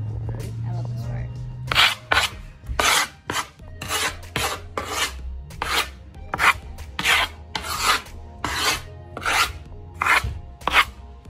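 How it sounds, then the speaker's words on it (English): Sanding around a hole by hand, a run of rhythmic rasping strokes, close and fairly loud, following a low hum at the start, with some talk over the work. "He's gonna sand around it and get ready to cut it around."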